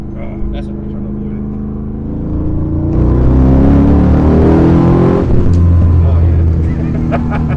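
A Porsche 911 997 fitted with an LS3 427 stroker V8 pulls hard in third gear, its deep engine roar swelling loud and close from about three seconds in, with a brief voice over the top.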